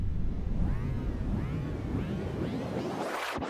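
A synthesized sound-design effect from an Ableton ping pong delay in repitch mode, with repeating echoes that sweep upward in pitch in arcs over a dense noisy bed and end in a brief rising swoosh.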